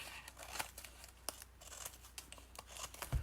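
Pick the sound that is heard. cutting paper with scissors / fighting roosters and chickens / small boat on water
cutting paper with scissors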